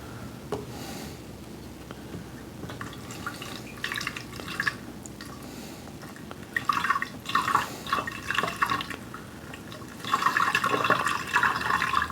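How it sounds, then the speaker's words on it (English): Plain tap water runs into a storage barrel, a steady hollow splashing and trickling that swells louder in bursts near the end, close and fairly quiet, with no talking. "And we want to fill them about half full."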